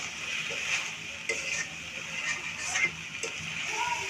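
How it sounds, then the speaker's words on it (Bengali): Onions frying in oil give a faint, steady sizzle with light scraping stirs and small taps, fairly quiet and close. "পেঁয়াজটা ভালোভাবে তেলেতে কষে নেওয়া হয়েছে।"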